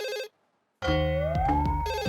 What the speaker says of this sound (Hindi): जी सर जेठालाल का फोन आ रहा है।